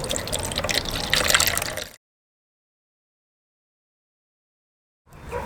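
Coolant drains from a motorcycle's detached radiator hose into an empty container, a steady liquid trickle and splash lasting about two seconds before falling silent.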